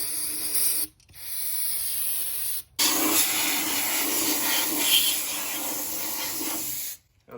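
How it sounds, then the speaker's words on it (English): Brake cleaner hisses from an aerosol can onto the differential of a BMW E36 in long, loud, close bursts. Two short pauses break up the steady spray, and the can stops near the end. "he's just going here spraying it down with a brake cleaner"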